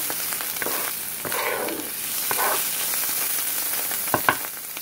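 Ham warming lightly in a pan alongside mushrooms and onions for a ham, Swiss and mushroom quiche gives a steady, soft sizzle, with a few sharper clicks and spatters near the end and no talking.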